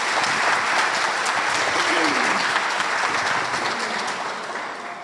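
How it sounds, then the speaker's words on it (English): A community gathering applauds everyone who ran for council before an inauguration: dense, sustained clapping from a sizeable crowd that holds steady and then tapers off slightly toward the end. "Big round of applause to everybody who ran for council."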